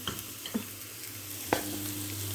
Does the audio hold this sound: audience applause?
no